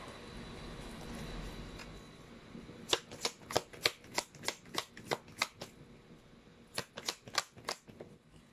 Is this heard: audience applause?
no